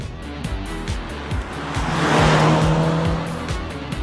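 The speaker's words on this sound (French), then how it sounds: "Nous avons eu la chance d'essayer la C300, qui est un moteur essence de 245 chevaux" A 2016 Mercedes C300 Coupé with a 245-horsepower petrol engine drives past, its engine note and tyre noise swelling steadily to a peak and then easing, with a rhythmic pulsing rumble underneath.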